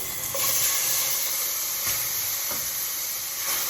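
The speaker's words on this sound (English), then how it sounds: "So this is when I throw in the oxtail. It's gonna give me a sizzle." Steady, loud sizzling hiss of oxtail searing in a hot pan, continuous and close, with no talking.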